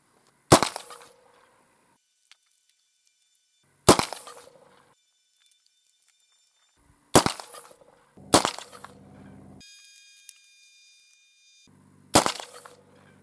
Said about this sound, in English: let's start off with our Remington Slugger, you know, 1-ounce rifled lead shotgun slugs.